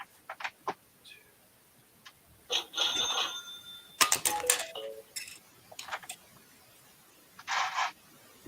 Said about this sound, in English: The telephone is ringing.